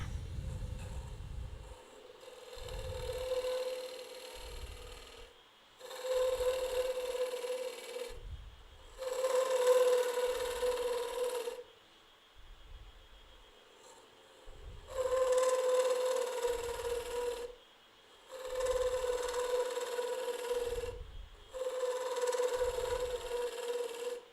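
A 5/8 inch bowl gouge cuts a wooden ring box turning on a lathe, giving a steady whining scrape in repeated bursts of a few seconds each, separated by quieter gaps with low thumps, close and alone.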